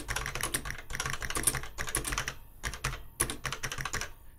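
Fingers typing on a replacement keyboard for a ZX Spectrum computer, a close, quiet run of rapid clicky keystrokes in uneven bursts with short pauses between them.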